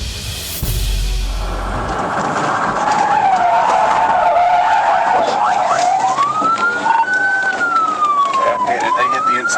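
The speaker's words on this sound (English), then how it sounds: "executed a successful pit maneuver, causing the car to lose control, crash into a guardrail, and flip over" A car pursued by police skids with a rising tire squeal amid engine roar, a brief impact at the start, and a siren wailing through the chase; loud and continuous.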